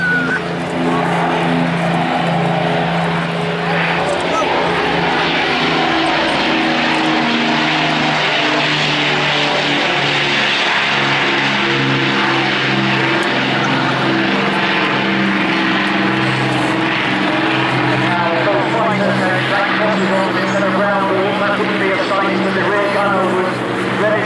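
A Battle of Britain Memorial Flight propeller aircraft flies past in landing configuration at the Sunderland Airshow 2013, its piston engines droning loud and steady with a rich harmonic throb, while a commentator's voice talks over it throughout.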